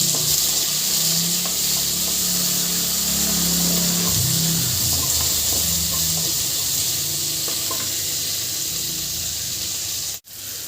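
Chopped tomato is being stirred into a frying pan with onions that have already softened in oil, for a sundakkai kootu. The sizzle is steady and continuous, with scraping stir strokes close by and no talking.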